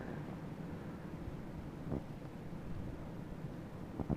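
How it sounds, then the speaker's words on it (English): A South Dakota blizzard with wind out of the north, a steady low roar buffeting the microphone, plus a couple of faint knocks. "Obviously, the wind is out of the north."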